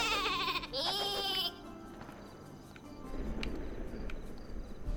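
A cartoonish sheep bleats from the Worms W.M.D video game, a wavering bleat near the start, followed by clattering game effects and faint background noise.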